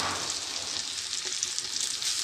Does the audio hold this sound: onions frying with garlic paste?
yes